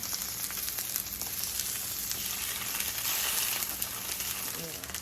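Stuffed salmon fillets with a saltfish and callaloo filling sizzle steadily in a frying pan, a dense, even crackle of hot oil that holds close and fairly loud throughout with no talking.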